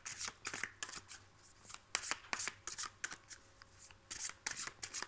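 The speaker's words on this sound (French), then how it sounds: "je vais prendre une carte pour la personne en face de vous" Tarot cards being shuffled by hand, a quick run of soft riffling and slapping bursts close to the mic, each brief and papery, with no talk over it.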